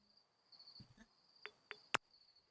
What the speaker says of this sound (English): Listen to the crickets and feel more calm.